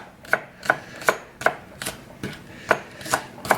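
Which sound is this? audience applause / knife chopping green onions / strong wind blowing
knife chopping green onions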